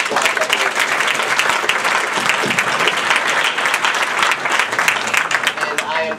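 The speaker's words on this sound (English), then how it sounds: "And if we can give them a big round of applause." A big round of applause from a conference audience fills the room, dense steady clapping throughout at full strength with faint crowd noise mixed in.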